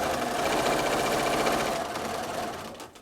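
A sewing machine doing free motion quilting of stacked triangles, running in a fast, steady, dense stitching whir that holds loud and close, then slows and softens near the end.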